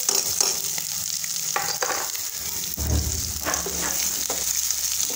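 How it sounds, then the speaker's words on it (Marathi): Onion frying with garlic in a pan, a continuous close sizzle broken by stirring scrapes and a few spatula knocks, heard alone without talk. "लसूण झाला की मस्त कांदा टाकून घेऊ।"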